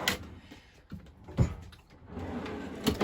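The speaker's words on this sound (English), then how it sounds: "And all the drawers pull all the way out," A kitchen drawer in a converted short bus slides open with a couple of soft thumps and rolling scrapes, close by and without talk.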